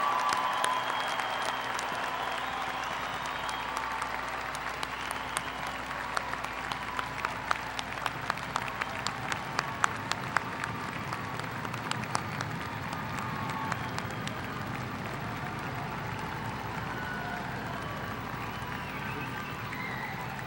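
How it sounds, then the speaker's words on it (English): A commencement ceremony crowd gives graduates a long, sustained ovation, a steady, even roar of many hands clapping heard from some distance in a large hall, lasting about twenty seconds without speech. "I would like to have one final round of applause for all the graduates"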